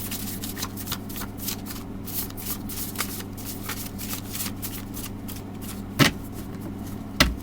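Tarot cards are shuffled up close in quick, rhythmic riffles of papery flicks, ending with two louder taps as the deck is squared.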